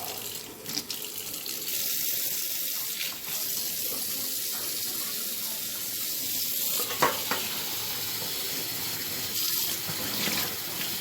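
Cold tap water runs steadily over boiled eggs in a sink, a continuous close hiss and splash with occasional clinks and knocks.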